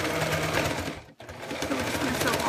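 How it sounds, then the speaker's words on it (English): A sewing machine stitches around a zipper line, running in a fast steady whir close up, with a brief pause near the middle before it resumes at full speed. "So we're just going to sew all the way around. Back stitch a little bit."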